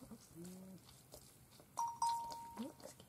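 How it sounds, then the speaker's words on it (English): A phone's reminder alert sounds a few short, clear chime tones in a quiet room during solar dyeing work at home, with faint voice and handling noises around it. "That's my phone telling me to drink some water."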